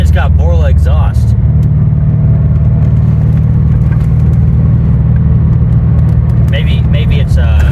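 A Corvette with a Flowmaster exhaust and X-pipe gives off a loud, steady low rumble throughout. Brief voices come in over the drone at the start and near the end.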